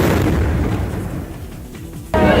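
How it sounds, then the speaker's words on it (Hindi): A cannon salute is fired at a temple on Krishna Janmashtami, with a loud, rumbling outdoor blast followed by a sharp, sudden boom near the end. "स्थानीय अधिकारियों और मंदिर के अधिकारियों की मौजूदगी में तोपों से सलामी दी गई।"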